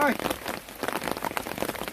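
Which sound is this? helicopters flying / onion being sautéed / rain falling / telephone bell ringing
rain falling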